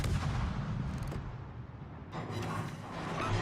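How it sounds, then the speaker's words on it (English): Torpedo hits in World of Warships, heard as deep, rumbling explosive booms with a low roar and a couple of louder impacts, without speech. "Yes! 2 torpedo hits."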